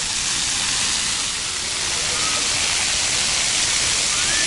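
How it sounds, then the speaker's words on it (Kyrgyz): Water pours steadily from a park fountain in Columbus, Ohio, a loud continuous rushing hiss that holds even and unbroken from start to finish, with no voices over it. "Мына могул жерде азыр фонтан аябай суу агып атты эле, бир катуу агып,"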